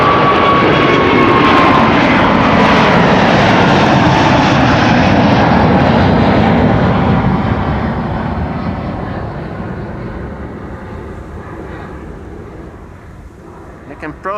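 A quad-engined airliner's engines roar loudly at Amsterdam Schiphol Airport, a powerful sustained drone that slowly fades as the aircraft moves away, with a voice talking over it.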